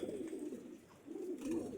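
Pigeons being handled give soft, low cooing in two rolling phrases, close and quiet, with no talk over them.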